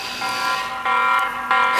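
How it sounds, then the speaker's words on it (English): Low-battery alarm from a drone, a steady electronic tone sounding in three repeated pulses, loud and close with no talk. "Did you hear that alarm?"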